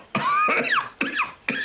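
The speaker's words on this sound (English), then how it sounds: "your cough's gotten worse since I last visited" An older man coughs three times in quick, harsh bursts, close and fairly loud, each cough short and raspy with brief gaps between.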